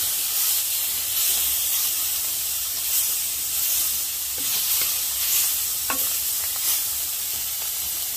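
Onions and garlic sizzling in hot oil in a pan, a steady bright hiss and crackle close up, with a few faint stirring clicks and no talking.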